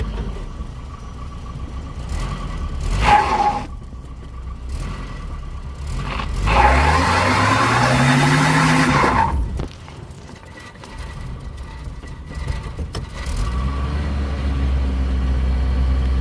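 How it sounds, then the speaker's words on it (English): A stripped-down motorhome with no bed idles with a low rumble, then revs hard during a slow-speed burnout as the tires squeal, and the engine drops back to a heavy idle afterward. "With no bed, you can even do slow speed burnouts."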